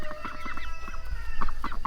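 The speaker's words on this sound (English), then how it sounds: "A couple ducks and a couple chickens." Chickens cluck in short repeated bursts, fairly close, with a steady low rumble of background noise underneath.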